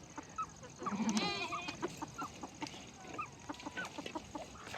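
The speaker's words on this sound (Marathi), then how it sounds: "आता कोंबड्या बी लागल्या ते शिरायला डालग्यात" Chickens cluck and squawk as they are herded into a basket at a rural shepherd's camp, a short burst of flapping and calls near the start followed by scattered clucks throughout, fairly close.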